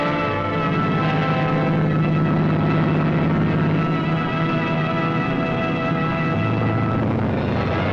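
Military transport aircraft carrying paratroopers in 1945 drone with a loud, continuous propeller-engine roar that holds steady throughout and has no voices over it.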